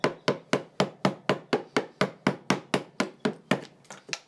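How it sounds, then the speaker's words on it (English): A wood chisel struck by a mallet to rough out waste wood from a chair tenon during a wooden chair repair, about sixteen sharp, evenly spaced knocks in a steady rhythm, close and alone. "we can use a chisel to remove the bulk of the waste wood"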